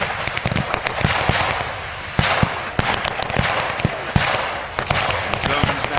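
Sharp explosive blasts of mortar fire at a WWII battle reenactment with Germans advancing behind an armoured car, repeated bangs at irregular intervals over a continuous roar of outdoor crowd noise and wind.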